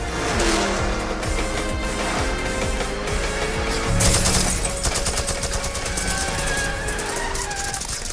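Car chase from the Black Panther film: roaring engines, squealing tires and bursts of gunfire mixed with a driving orchestral score, loud and dense throughout, with a sharper crash-like surge midway.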